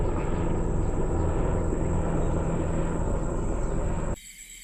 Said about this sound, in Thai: เฮลิคอปเตอร์